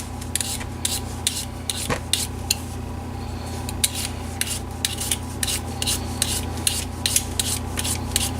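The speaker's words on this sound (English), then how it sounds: "I'll start peeling potatoes." Potatoes peeled by hand, with rhythmic rasping scrapes of the peeler repeating roughly every half second over a steady kitchen hum, close and moderately loud.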